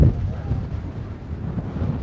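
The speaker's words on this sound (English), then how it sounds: "Now that's windy. It is seriously windy." Strong wind buffets the microphone outdoors at a military show in Wexford, Ireland, with a steady low rumble and roar, constant throughout with no clear speech.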